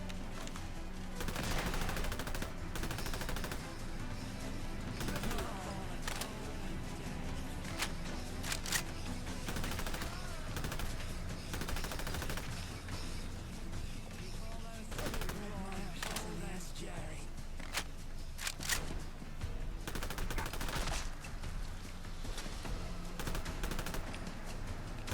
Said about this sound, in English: Let's change weapons to my combat rifle.